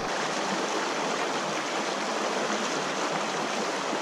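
A river current in midsummer flows steadily, a broad, continuous rush of water heard close and evenly loud throughout with no voices.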